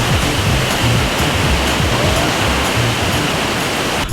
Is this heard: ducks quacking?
no